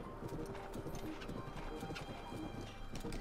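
Horse hooves clip-clop steadily in The Legend of Zelda: Breath of the Wild as a horse is ridden through a frozen region, with a brief whinny mixed into the dense, close game audio.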